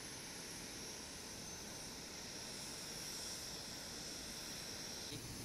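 An airliner being pushed back from its stand at Osaka Itami Airport, heard as a steady, broadband engine roar and hiss that stays level and continuous from start to finish.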